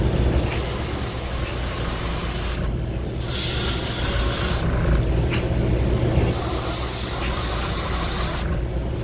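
A spray can lays down a coat of yellow paint in long, loud, close hissing bursts, with a few brief pauses between passes.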